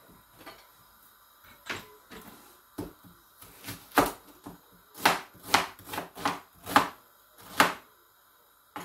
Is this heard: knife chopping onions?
yes